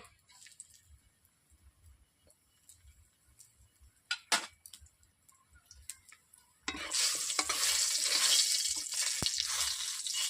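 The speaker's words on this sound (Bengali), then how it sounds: "প্রথমে বড়িগুলোকে আমি ভেজে নিচ্ছি।" Homemade lentil bori dumplings frying in hot oil, a loud steady sizzle starting partway through after quieter clinks and stirring sounds, continuing close and even to the end.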